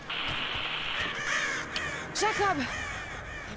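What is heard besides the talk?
crows cawing in video game Rise of the Tomb Raider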